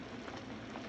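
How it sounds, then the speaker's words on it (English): Steady rushing hiss from a kitchen dishwasher running nearby, faint and unbroken, with no voices. "sorry about the dishwasher noise"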